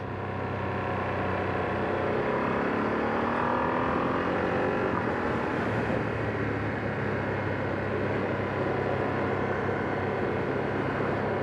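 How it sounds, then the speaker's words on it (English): A 2025 Ducati Streetfighter V2S motorcycle on the road, its engine droning steadily and loudly while it downshifts smoothly with the quick shifter, with wind rush over the note and rising and falling revs, no voices. "So using the quick shifter to go down, yeah, really smooth."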